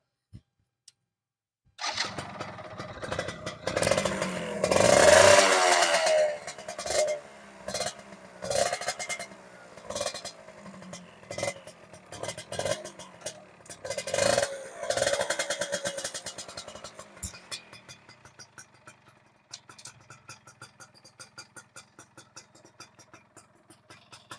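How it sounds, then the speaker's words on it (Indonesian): A Yamaha F1ZR motorcycle engine fitted with a spinner clutch and aluminium cover starts up and revs loudly, then settles into a steady, rattling idle that fades lower over time. "Ini motornya saya mau hidupkan"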